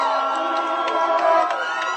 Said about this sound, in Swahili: Makofi from the governor and the DG